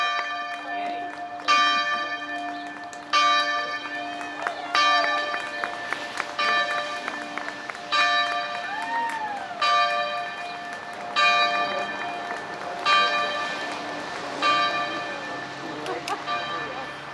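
Church bells peal repeatedly in a steady, resonant sequence of strikes, fairly close and loud over a continuous background hum.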